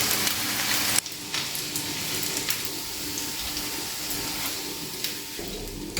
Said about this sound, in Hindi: और इसे फ्राई कर लेंगे